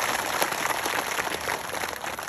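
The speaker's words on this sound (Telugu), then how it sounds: "గట్టిగా చప్పట్లు కొట్టండి అమ్మా" An audience at a Telugu spiritual discourse breaks into steady, dense applause, a continuous patter of many hands clapping at moderate volume with no voices over it.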